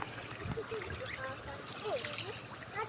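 River current rushing and trickling steadily nearby in a Philippine river, with small splashes and people talking and exclaiming over the flowing water throughout.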